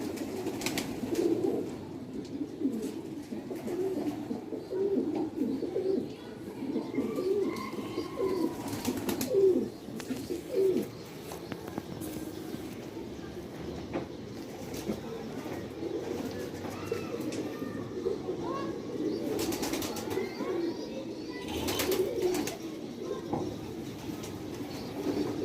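A quail chick gives faint, repeated short calls against a noisy outdoor background, with scattered thumps and rustles over about 25 seconds.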